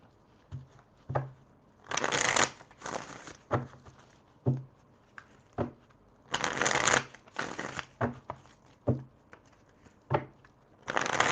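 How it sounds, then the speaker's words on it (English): Tarot cards being shuffled and pulled, in repeated bursts of riffling and softer taps and slides between them, close up and with no talk over them. "Let's pull these cards and see what's up."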